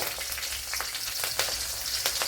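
Green chilies sizzle and crackle in hot oil with mustard seeds while a brinjal curry is prepared, a steady close frying hiss with a few sharper pops and brief stirring scrapes, with no voices.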